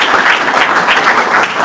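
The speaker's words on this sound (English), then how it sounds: "So I hope you heard the applause." Dense audience applause at the close of a conference talk on knowledge-based construction, loud and steady clapping that fills the room throughout with no voices.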